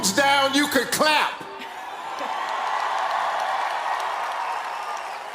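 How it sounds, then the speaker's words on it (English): A stage announcer speaks loudly over a large outdoor crowd in Dubai before the event shows steady applause and cheering swelling in, a continuous wash of clapping that carries on to the end. "If you put your phones down, you can clap."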